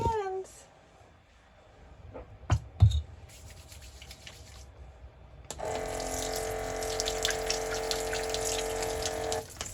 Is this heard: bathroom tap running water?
yes